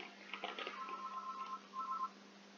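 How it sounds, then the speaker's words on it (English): A telephone tone sounds in repeated steady beeps over roughly a second and a half, with a short gap before a second burst, heard against faint game music during a Football Manager 2018 session. "Need to answer the phone."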